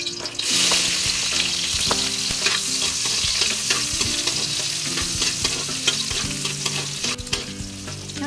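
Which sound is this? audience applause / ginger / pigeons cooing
ginger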